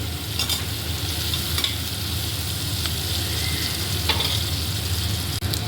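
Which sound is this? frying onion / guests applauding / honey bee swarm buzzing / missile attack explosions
frying onion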